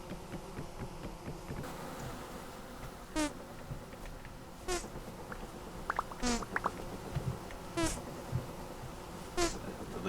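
An angry bee hive buzzing after being broken in the video game Vintage Story, a low continuous drone with recurring louder buzzing sweeps passing by every second or two.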